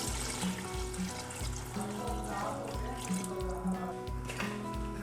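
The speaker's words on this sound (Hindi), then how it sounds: "उस हिसाब से इसमें पानी डाल देंगे।" Water pours steadily into a pot of rice being cooked for aloo tahari, a continuous wash of liquid with a faint rhythmic stirring or tapping underneath, close and moderately loud.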